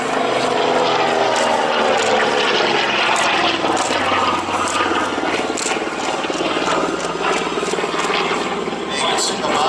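Aircraft engine droning loudly and continuously overhead during an air show display at Wings Over Illawarra 2021, a broad steady roar that swells and shifts slightly over about ten seconds.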